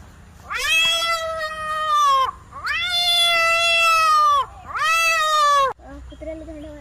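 A person imitates cats fighting with three long, wailing yowls, rising and drawn out, loud and close, followed by a short softer cry.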